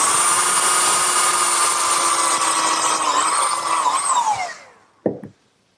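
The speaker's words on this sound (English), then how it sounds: "I'm going to pre-drill for the screws using a combination drill countersink" A power drill with a combination drill countersink bit bores pilot holes for screws in a wooden sandbox, a steady high whine that slows and winds down near the end, followed by a short knock.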